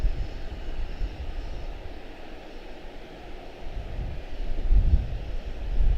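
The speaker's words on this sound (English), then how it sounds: "A320 out of Panama City, 2057, American Airlines. Sneaking in over there on that far side." An American Airlines A320 arrives at Charlotte-Douglas International Airport, a distant, fairly faint jet engine drone mixed with wind noise, swelling slightly near the end.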